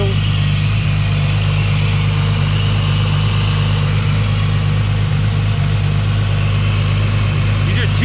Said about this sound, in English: Listen to how smooth this engine idles.